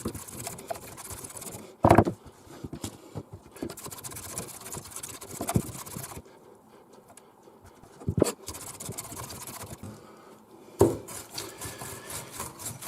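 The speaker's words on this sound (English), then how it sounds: "So you chop your parsley nice and fine with these." Fresh parsley is chopped finely with a multi-blade herb chopper on a board, making repeated scraping, rolling strokes with several sharper knocks and a couple of brief pauses.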